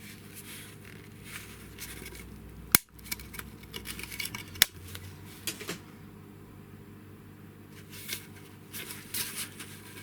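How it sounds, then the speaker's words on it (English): A burnt LED strip light being torn off its board: low scraping and crinkling throughout, broken by two sharp snapping clicks, close and fairly quiet. "Let's see if we can tear this off."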